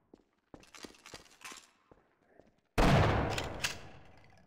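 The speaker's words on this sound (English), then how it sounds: "A rocket launcher." A rocket launcher fires in Half-Life with a sudden loud whooshing blast that decays over a second or two, preceded by scattered quieter clicks and metallic clinks.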